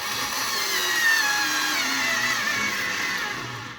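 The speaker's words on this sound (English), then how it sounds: "And you can use a drill" A power drill whirs steadily while driving a screw to mount a GRP unit during PV connection assembly, a close, continuous motor whine that winds down at the end.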